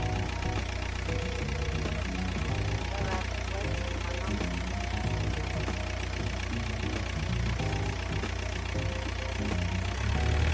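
A car engine idling steadily during a water pump pressure test, a constant mid-low rumble with a faint irregular knock, heard close up with no talk over it.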